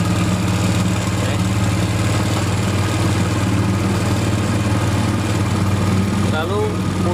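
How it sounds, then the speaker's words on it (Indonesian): A Yamaha Jupiter Z motorcycle engine idles steadily during carburetor tuning, a loud, close, continuous low drone with a constant rhythm throughout, briefly rising slightly near the end. "Pertama kita naikkan putaran mesinnya ya."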